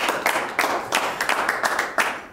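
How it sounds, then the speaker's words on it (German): Studio audience clapping on a German television magazine set, a short burst of loud, sharp, somewhat uneven handclaps from a modest crowd, close and dry. "Großer Jubel im Studio"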